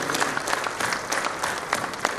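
An audience at a business training session in Pune claps together in a brief, dense burst of applause.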